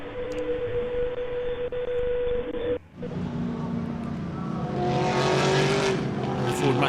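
Onboard a Ford Fairlane race car run by Lindenberg Racing, the engine drones loud and steady, cuts briefly, then roars back with rising revs and higher gearing noise; a voice can be faintly heard beneath it.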